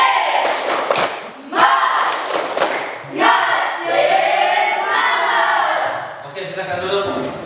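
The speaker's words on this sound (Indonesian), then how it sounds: "tepuk semangat dulu" A class of schoolchildren does a rhythmic spirit clap in a classroom lesson: a few sharp, loud group claps land in a pattern while young voices chant loudly together between and over them.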